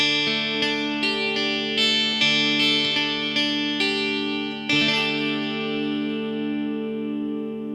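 A Knoxville 12-string Telecaster rings out in jangly strummed and picked chords with slapback echo and reverb, bright shimmering notes and a fresh attack near the middle, letting the chords decay.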